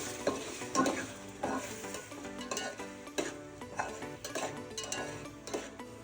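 A prawn and pea pulao mixture with yogurt stirred in a pan, with rhythmic scraping strokes about every half second over a low sizzle, close and moderate.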